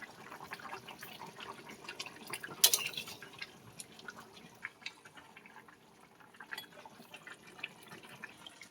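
A thin koi fish curry with potato simmers in a pot, making faint, irregular bubbling and dripping pops over a low background, with no speech.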